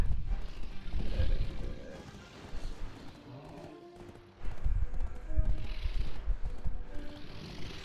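A horse gallops in the online game Black Desert, a loud, fast thudding clip-clop of hooves that pauses briefly and then resumes close up, with a few faint game sounds around it.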